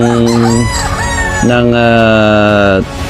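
A grey gamefowl rooster from a game farm crows loudly and close by, two drawn-out calls in quick succession with a brief gap between them and no other voices.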